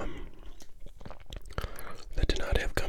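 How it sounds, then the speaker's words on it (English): Close, soft gum chewing with wet smacks and clicks, mixed with quiet whispering throughout, recorded at low level for a whispered trading-card ASMR session opening 1990 Topps baseball cello packs. "people were mentioning that they preferred the gum chewing, which I normally do"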